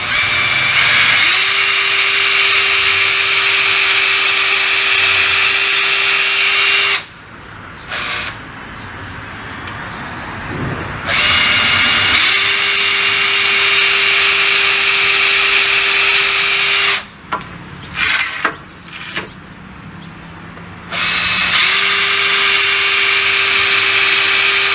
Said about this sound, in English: now I'm drilling the holes